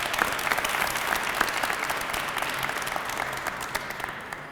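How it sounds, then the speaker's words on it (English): Audience applauding at a Cleveland civic announcement event, a loud continuous wash of clapping from a crowd that holds steady and begins to taper near the end. "Give yourself a round of applause."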